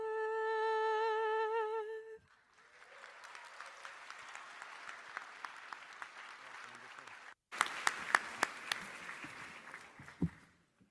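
A commencement audience applauds the singer of the national anthem, a held sung note giving way to steady hall-wide clapping that swells into a louder burst before fading.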